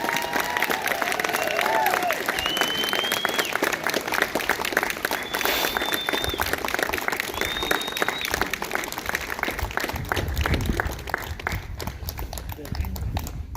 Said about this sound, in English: I would really appreciate it if you would give these 5 great individuals a round of applause